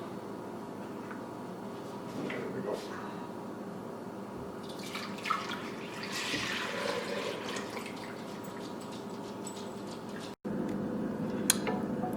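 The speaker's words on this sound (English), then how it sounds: "I'm going to actually pour this off and heat up my milk." Milk poured into a pot for homemade yogurt makes a soft, steady trickle and splash at close range, with light tapping and clinks around it and a brief spoken remark near the end.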